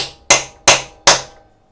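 Three loud, sharp metallic strikes of a heavy hammer land on a cold chisel, each ringing briefly before fading, spaced evenly apart.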